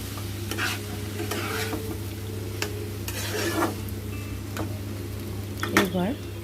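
Boiled banana flower and prawns stirred in a hot pan, a steady sizzle of frying with repeated scraping strokes and a few clinks of a utensil against the pan, fairly close.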